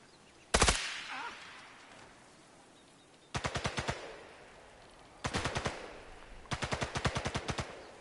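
Gunfire in Sniper Elite 5: one loud single shot, then three separate rapid bursts of automatic fire, each a quick string of sharp cracks, with quiet pauses between.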